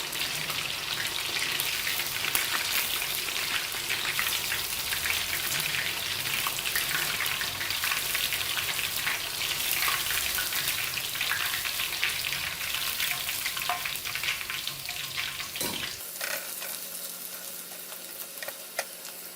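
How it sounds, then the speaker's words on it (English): Jumbo shrimp tempura deep frying in hot oil, giving a dense, continuous crackling sizzle like heavy rain that runs loud and steady for most of the clip, then drops off sharply near the end. "Let it fry 3 to 5 minutes until it's golden brown."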